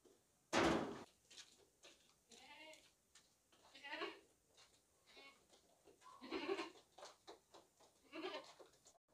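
Goats at a farm or livestock market bleating several times over a scattered run of calls, with one loud close bleat near the start and fainter ones following, a voice talking faintly in the background.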